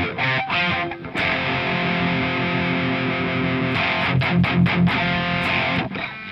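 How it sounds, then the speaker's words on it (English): Distorted electric guitar power chords with the octave added: one long sustained chord, then a run of choppy, rhythmically muted stabs, loud and up close. "usually it's played with the octave above as well."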